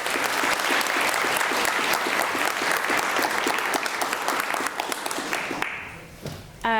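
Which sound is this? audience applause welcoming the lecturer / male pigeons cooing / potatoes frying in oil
audience applause welcoming the lecturer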